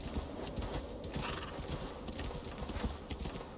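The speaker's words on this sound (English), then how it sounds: "Alright, we still have this horse here. The horse is not dead" A horse in the Assassin's Creed Valhalla video game, with steady clip-clop hoofbeats and a whinny filling the whole stretch at moderate loudness, no talk over it.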